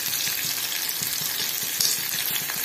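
Onions sautéing in a pan while cooking sambar rice, a steady close sizzle and fry hiss with faint stirring scrapes running throughout, no voices.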